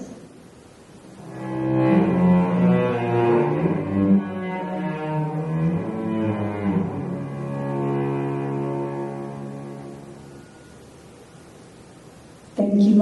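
Opening measures of Shostakovich's String Quartet No. 12 played by a string quartet, sustained bowed tones swelling in, holding and shifting in pitch, then fading quietly before a brief sound at the very end.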